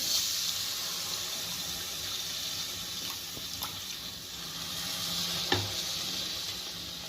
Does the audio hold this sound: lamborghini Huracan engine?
no